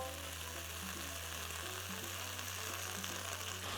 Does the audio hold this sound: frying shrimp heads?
yes